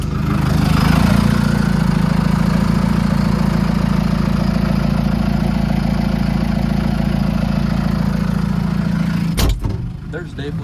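A farm tractor engine idles steadily with a loud, low, continuous rumble close by, then cuts off near the end with a short clunk, against an outdoor hay-storage setting.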